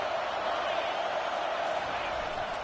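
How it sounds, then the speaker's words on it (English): Stadium crowd in the College Football 25 video game, a steady, distant roar of cheering that stays level throughout, with a commentator talking over it. "This crowd rising up, sensing that its defense needs some help."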